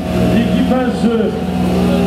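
At the 2014 Rallye Monte Carlo start ceremony, rally car number 12 sets off, its engine revving loudly with rising and falling pitch under a commentator's talk.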